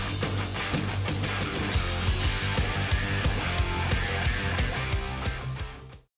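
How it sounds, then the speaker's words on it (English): Dense, loud hard-rock intro, driving drums and distorted guitars playing continuously, then cutting off abruptly at the end. "That revving intro, the warp speed verses, and a chorus that makes you want to jump on a motorcycle"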